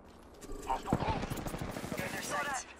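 Bursts of rapid gunfire in Apex Legends, loud and close, crackling through most of the stretch while a player talks over the shooting.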